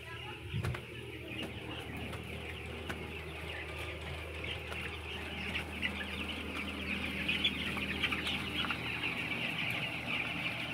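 A steady hum of many chickens clucking together in a large enclosed poultry farm shed with cooling pads running, with a continuous mechanical drone underneath and occasional wing flaps.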